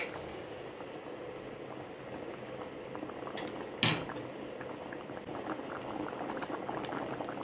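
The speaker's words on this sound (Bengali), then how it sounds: "দেখতেই পাচ্ছেন ধীরে ধীরে আমাদের এই গাড়ুর ডালটি একদম ফুটে উঠেছে এবং ঘন হয়ে এসছে" Garur dal, tinted with turmeric, bubbling steadily in a pot as it thickens, a soft continuous simmer with small pops and one brief clink midway.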